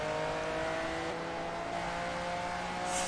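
A TVR race car in Forza Motorsport 3 accelerates with a steady engine drone that holds pitch, followed by a short tire squeal at the end.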